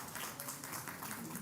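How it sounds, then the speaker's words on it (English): Audience applause greeting Dr. M.M. Khan, the first chairperson, as he takes the dais at a patient safety conclave in a college building: steady, dense clapping that sounds fairly distant and quiet, filling a large hall with no voices over it. "sir, with a huge round of applause."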